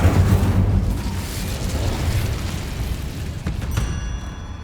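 A fire spell cast in Hogwarts Legacy sets off a loud, sustained burst of roaring flame and rumble that holds steady for several seconds, with crackling debris near the end and no voices.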